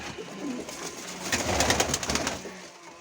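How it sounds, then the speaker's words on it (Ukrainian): A grey pigeon coos in a steady, close run of low murmuring calls that swell briefly in the middle, alone with no voices. "Це теж сірий голуб"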